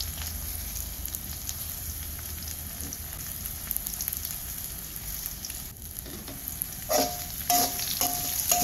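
Tempeh and yellow velvetleaf sizzle and crackle steadily in a hot pan, with a few metallic scrapes and clinks of stirring toward the end.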